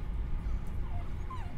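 A dog gives soft, thin whimpers and a high yip or two over a steady low rumble of background noise. The sounds are faint and brief, and no one speaks.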